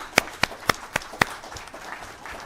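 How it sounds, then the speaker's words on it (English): Sparse applause for veterans at a Memorial Day 2021 ceremony in Blowing Rock, a handful of distinct claps ringing out near the start and then quickly thinning into faint scattered clapping. "Let's give them a round of applause."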